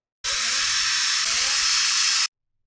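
A power drill bores a pilot hole with a 2.5 mm bit for a window insect-screen frame, one continuous high whine of about two seconds with a short dip midway, close and loud.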